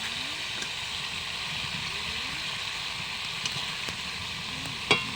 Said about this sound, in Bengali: এবার জলটা ফুটে গেছে, মাছটা দিয়ে দেবো।